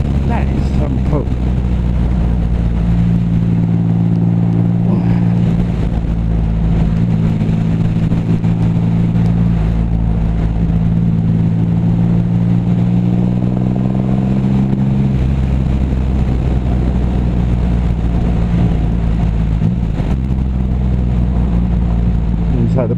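A heavy motorcycle's engine pulls hard under throttle, its deep drone climbing in pitch through a long acceleration, easing, then rising again, loud and close against wind rush, with a rider talking over it.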